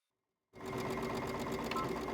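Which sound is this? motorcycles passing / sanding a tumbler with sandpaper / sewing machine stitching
sewing machine stitching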